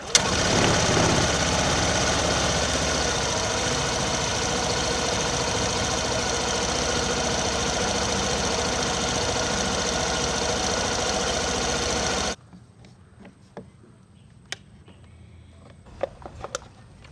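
After a magneto and stator cleaning, a Suzuki Burgman scooter engine runs at a steady, close, buzzing idle for about twelve seconds, then cuts off, leaving quiet room sound with a few small clicks.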